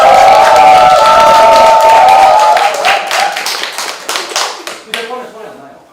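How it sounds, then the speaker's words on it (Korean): Clapping from a small group at a campaign office opening, crisp close hand claps over a voice that rings out at the start, thinning into scattered claps before fading out. "박수!"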